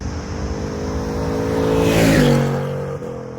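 A 2020 Ford Mustang GT with Premium Pack drives along, its V8 engine droning loud and steady, then rising in pitch and swelling before a quick gear change drops the tone.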